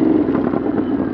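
A 2022 Ducati Monster motorcycle's exhaust gives a loud, close, steady rumbling roar for a brief moment, with no talk over it.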